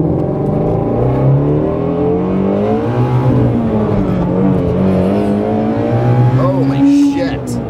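A supercharged Shelby Mustang GT350 with a race setup accelerates hard, its engine note loud, close and sustained as the revs climb and shift in pitch throughout.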